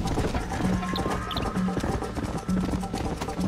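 Horse galloping in the Western video game Red Dead Redemption, a steady rapid run of hoofbeats close up, with faint game ambience and soft tonal cues in the background.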